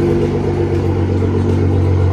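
Turbocharged BMW E46 M3 drift car engine running loud and close, a steady deep rumbling drone with slight surges, heard alone.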